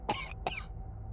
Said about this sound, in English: I think he's coughing up.